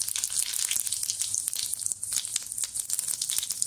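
Cumin seeds crackle and sizzle in two to three spoonfuls of hot oil in a kadhai, a steady close hiss dotted with small pops.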